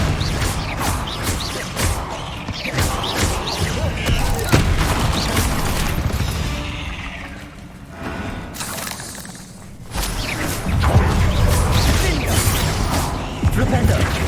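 Loud booming blasts of the Bombarda explosion spell in Hogwarts Legacy, mixed with crashing debris and game effects, while a voice talks over the action.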